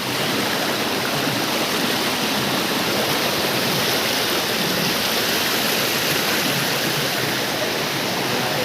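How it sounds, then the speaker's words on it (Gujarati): A river and a waterfall along a roadside rush in a dense, constant roar, loud and close, with no voices over it. "બહુ મસ્ત છે આગળ તો ધોધ"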